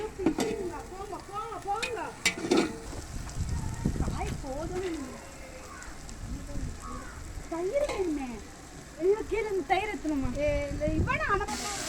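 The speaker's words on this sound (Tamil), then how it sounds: "தக்காளி போட்டு வதக்குறாங்க" Tomatoes sautéing in a pan for a home-style mixed rice dish, with a spoon scraping and stirring over a soft sizzle while people chatter and call out in the background throughout.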